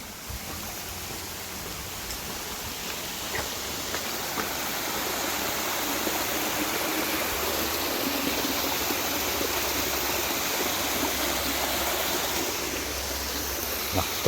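Small waterfall on a hillside trail above a reservoir, water pouring in a steady broadband rush that holds constant and fairly close throughout, with no voices.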